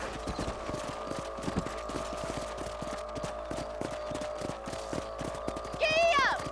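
A horse trots in Red Dead Redemption, its hooves clip-clopping in a steady, fast rhythm on open ranch ground, with a short whinny near the end over a low background hum.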